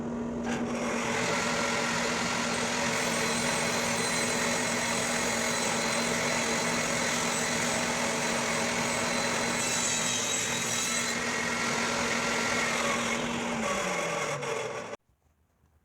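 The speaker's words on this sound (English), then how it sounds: "we're going to cut some strips, and we're going to make them 3/4 of an inch wide by 1/8 of an inch thick on the table saw" A table saw rips thin spruce and red cedar strips for toaster tongs, a steady loud whining cut sustained for about fifteen seconds before the blade winds down and stops abruptly.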